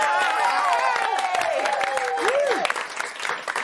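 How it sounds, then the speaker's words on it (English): Loud crowd screaming and cheering with high shrieking voices and clapping, swelling then tapering off toward the end. "Would you please scream your heads off for Khan?"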